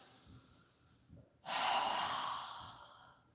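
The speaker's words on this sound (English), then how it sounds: "We're going to take 3 deep breaths, inhaling through our nose and exhaling with our mouth open wide." During a seniors' yoga class, a person draws a soft inhale through the nose, then lets out a long, loud exhale through a wide-open mouth, close to the microphone.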